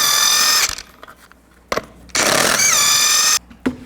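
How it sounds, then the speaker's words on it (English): A power tool spins lug nuts off a 1999-07 Chevy Silverado 2500 wheel with a 22mm socket, giving two loud, close whirring bursts separated by a pause, with clicks and clanks between. "Take the lug nuts off, use the same 22mm socket."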